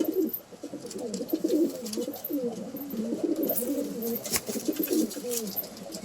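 Short-sized Madras pigeons coo in continuous, overlapping throaty phrases, close and fairly loud, with a steady murmur of several birds and no talking.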